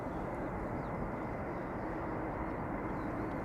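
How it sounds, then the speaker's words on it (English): A KLM Airbus A330-300 airliner rolls along at Schiphol Airport, a continuous low, even jet roar heard from a distance, unchanging throughout with no voices. "Already on the move, it is KLM flight 777 going to St. Maarten. An A330-300 PHAKD, 11 years old"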